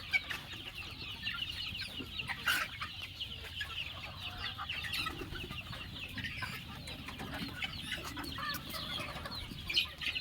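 About 1,500 chickens on a poultry farm, scattered paddy to eat, keep up a continuous soft clucking and chattering, with occasional sharper squawks breaking through the quiet backdrop.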